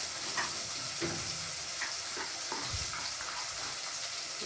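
Masale bhat mixture with salt and turmeric sizzles quietly in a pan, with a few soft scrapes and taps of a spoon stirring it at an even, unhurried pace.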